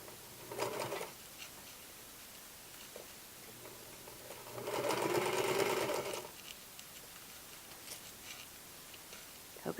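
Sewing machine stitching fabric onto a dress shirt collar as it is converted to a mandarin collar, heard in a short burst then a longer run of quick rattling stitches, fairly faint with quiet pauses between.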